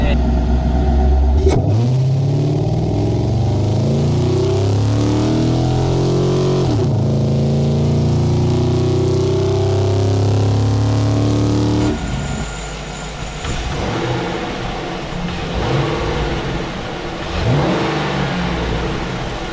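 A Chevrolet Silverado pickup engine revs loud and close, rising and falling in long sweeps, then settling to a rougher idle with brief blips.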